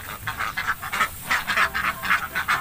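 A duck quacks loudly and close by in a rapid string of about a dozen raspy, nasal calls, with no voices over them.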